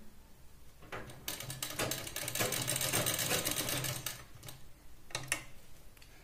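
A sewing machine stitches a blouse in short bursts as the cloth is turned around the lowered needle, the motor rattle rising to a few seconds of steady stitching, then fading to faint clicks.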